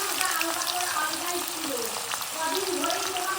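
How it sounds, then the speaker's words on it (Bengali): Chopped onions hit hot oil and sizzle loudly and continuously at close range, with a bright, even frying hiss that holds steady throughout. "এখানে কুচো পেঁয়াজ ছেড়ে দেবো।"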